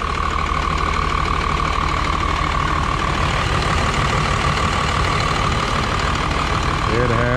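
A 1995 truck with a Cummins diesel engine idles close by, a loud, steady, unbroken rumble that runs through the whole stretch.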